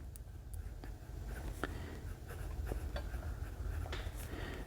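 Soft continuous scratching of a Hero 5028 fountain pen with a 1.1 stub nib moving across paper, close and steady with faint strokes and small ticks, no talk.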